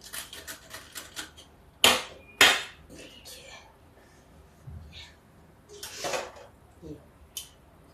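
A knife chops onion for pakoras on a board: close, irregular sharp knocks, a few hard strikes standing out, with quiet gaps between.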